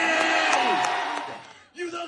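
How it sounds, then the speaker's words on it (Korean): Students in the audience cheering at a high school festival, a loud crowd roar and whoops that fade away, then a voice speaking briefly over the quieter room. "관중석 일부 학생들도 덩달아 환호합니다"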